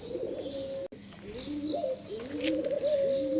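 Pigeons coo repeatedly in soft, rolling phrases close by on a cold winter morning, with a few brief chirps mixed in and no talking.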